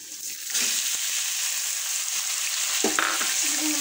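Onions are tossed into a hot pan with cumin and fry in a loud, continuous sizzle, with a few stirring scrapes and knocks heard close up.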